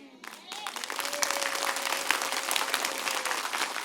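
A church congregation applauding during a worship service, dense sustained clapping that swells after a brief quiet start and stays loud throughout, with crowd voices mixed in.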